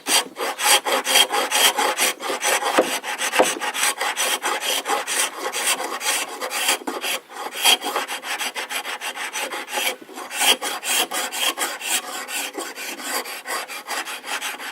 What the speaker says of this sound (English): just with a plain scraper